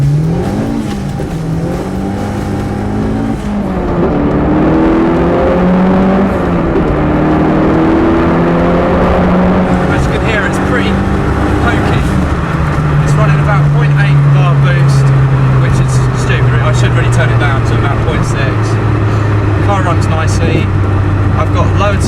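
A Fiat Cinquecento Turbo with lowered suspension pulls onto a main road, its engine rising and falling through several gear changes before settling into a steady cruising drone, heard from inside the car.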